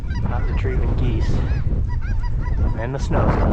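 Snow geese on a snowy field during a blizzard duck hunt honk loudly and repeatedly in overlapping, nasal calls, close by and continuous, with a voice briefly audible among them.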